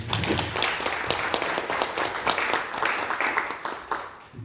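An audience applauds at a Korean infrastructure innovation forum's panel discussion after a speaker finishes. Brisk, moderately loud clapping from a room of people runs steadily for a few seconds and then tapers off.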